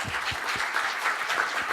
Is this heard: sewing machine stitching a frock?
no